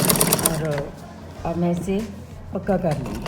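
A sewing machine stitches the seam of a ladies' trouser in short bursts of rapid mechanical chatter, heard close and broken up by someone talking between runs.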